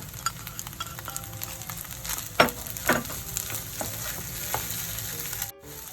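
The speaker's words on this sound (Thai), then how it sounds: "เรานำแครอทกับหัวหอมที่ผัดไว้ลงไปผัดด้วยกันค่ะ" Carrot and onion stir-fried in a pan for Japanese-style egg fried rice, a steady sizzle throughout with scraping stirs and a few sharper clatters near the middle, no talking.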